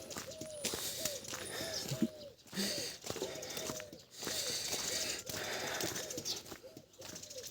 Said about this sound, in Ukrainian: Як співають пташки, як все просинається.